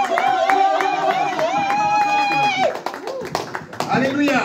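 A church congregation claps in a steady rhythm while a voice holds long sung or shouted notes, joined by cheering. The clapping grows broken and uneven toward the end as voices keep calling out.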